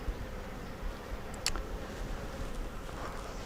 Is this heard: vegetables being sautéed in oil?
no